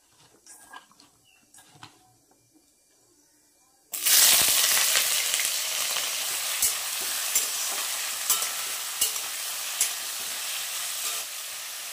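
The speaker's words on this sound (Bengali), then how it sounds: "আলু আর কুমড়োটা এখন ভাজা করব" After a few quiet seconds of small clinks, a loud sizzle erupts as potato and pumpkin hit hot oil and keep frying steadily, with occasional stirring scrapes.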